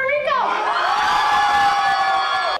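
Energetic crowd of students cheering, whooping and shouting at a rock-concert-style science event honoring a Hispanic scientist, loud and continuous from start to an abrupt stop.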